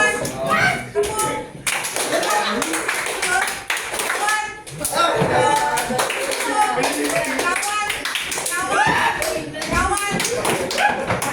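Children in a classroom play a clapping game, with sharp hand claps and taps in bursts, interspersed with thuds, while children's voices and an adult speaking continue throughout.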